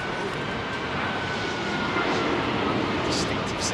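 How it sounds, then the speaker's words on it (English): An Airbus A380's jet engines winding up at Heathrow, a steady broad roar with a faint rising whine, constant and fairly loud throughout with no talk over it. "Distinctive sound. Those engines being wound up."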